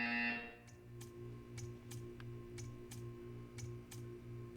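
A short electronic buzzer from the video game Portal 2 pulses in a steady rhythm, each beep paired with a faint click, against a quiet humming background.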